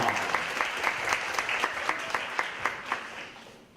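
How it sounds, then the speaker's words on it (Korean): Audience clapping at a Korean mentoring talk concert, a steady dense round of applause from a seated crowd with a few louder claps standing out, fading toward the end. "박수로 신유준 멘토의 강연 시작하겠습니다"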